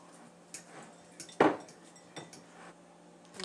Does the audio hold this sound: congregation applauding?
no